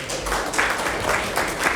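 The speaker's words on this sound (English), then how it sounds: "Let's give her a round of applause" A crowd applauds, a dense wash of clapping at steady volume with no pause.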